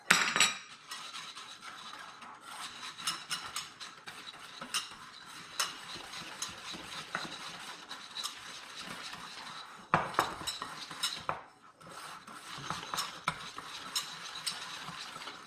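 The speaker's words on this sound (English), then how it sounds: "our mix of flour and cornstarch. So I'm gonna mix these two together." A flour and cornstarch mix for pastry cream is stirred in a bowl, producing steady close scraping with frequent light clinks and taps of utensil on the bowl, continuing alone without talk.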